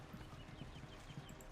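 Horse hooves clip-clop in a steady, regular rhythm, several soft close steps with a low background hum, from the video game Age of the Ring.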